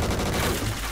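Dense, rapid bursts of gunfire in a game rattle continuously for about a second, loud and close.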